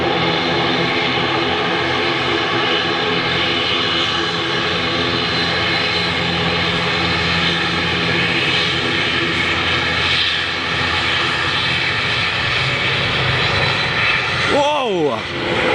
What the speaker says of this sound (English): Eastern Airways ATR 72. Love this aircraft. That noise.